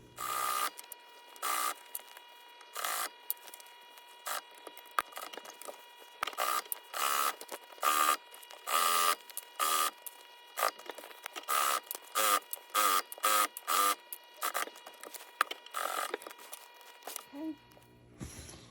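Sewing machine stitching a dining seat cover, sped up, gives a quick run of short stitching bursts with steady mechanical whir and brief gaps.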